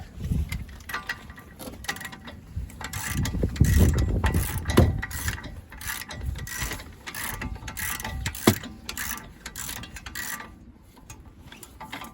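A ratchet is turned in repeated rapid clicking strokes to tighten a driveshaft bolt on a 2015 Vauxhall Mokka. The clicks are close and continuous, with louder clunks of metal in the middle.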